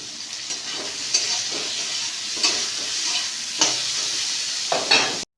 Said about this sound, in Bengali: এবার কাজ হচ্ছে শুধু আলু এবং পটলগুলোকে ভাজা।